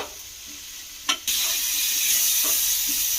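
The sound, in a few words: tomatoes frying in a pan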